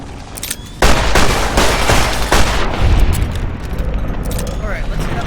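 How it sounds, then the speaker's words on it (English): Gunfire in the video game Fallout: New Vegas, a loud burst of rapid shots and booms starting abruptly and continuing as sustained rattling fire with heavy low thumps, a voice faintly underneath. "Hostiles are firing weapons."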